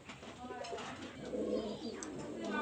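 Pigeons coo softly in a loft, faint low calls under a steady high-pitched hum and background noise, with a sharp click near the middle.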